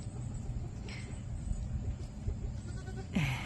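A single sheep bleat rises near the end, over steady low rumbling background noise, with a fainter cry earlier.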